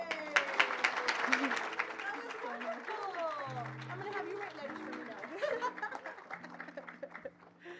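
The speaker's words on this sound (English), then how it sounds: "Another round of applause for Keiko." A crowd claps loudly at the announcement of the 107th Rose Queen, the applause thinning out over several seconds as scattered laughter and voices mix in.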